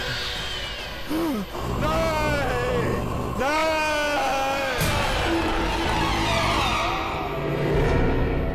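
A man screams in several loud, wavering cries from a morgue, rising and falling in pitch, over a constant background hum.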